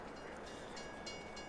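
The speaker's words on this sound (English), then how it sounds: "we'll be back in a second when we get the train rolling out" A freight train hauling a full load of iron ore rolls along in Farming Simulator 22, giving a steady, faint rumble with soft rail noise and no distinct horn.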